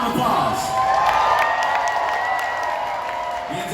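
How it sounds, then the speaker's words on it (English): A concert hall crowd at The Ranch in Fort Myers cheers and applauds at a show, with whoops and shouts riding over a loud, steady wash of clapping and roaring voices that fades slightly toward the end. "give him a round of applause"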